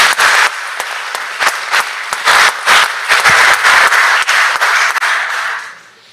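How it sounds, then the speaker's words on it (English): Round of applause from senators on the Mississippi Senate floor, dense clapping filling the chamber for about five seconds before tapering off at the end. "I asked the Senate if you all would also give them a round of applause for the great work that they've done"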